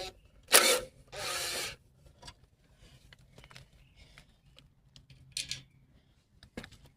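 A power drill backing a side bolt out of an old push mower's carburetor, two short close whirring bursts near the start and a brief quieter burst later, with faint handling noises between.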